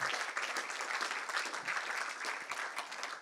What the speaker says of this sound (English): I'd like to say one more round of applause